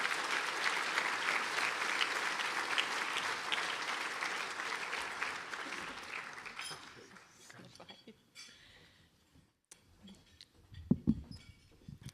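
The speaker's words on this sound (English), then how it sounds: "let's give a round of applause for all 3 of our Centennial Scholarship winners." Dinner guests at a pharmacy and health professions alumni dinner applaud scholarship winners, steady clapping that fades out around the middle, followed by quiet room noise, clinks of dishes and a few scattered sounds.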